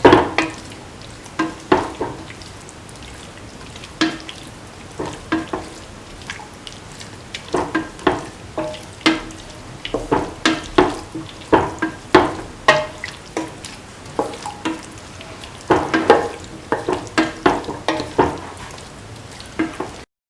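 Beef, tomato and coconut milk stew being stirred in a pan, with a low sizzle under repeated spoon scrapes and clinks against the pan in an uneven rhythm, close and alone without talk.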